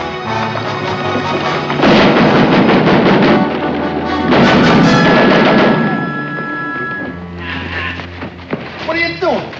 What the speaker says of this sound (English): Battery of rifles.